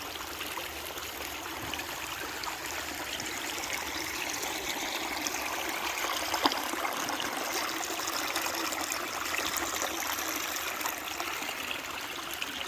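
Water from a dam spilling off a wall at a campsite along the Appalachian Trail, a steady broad rushing wash heard from some distance, constant and unbroken with no voices.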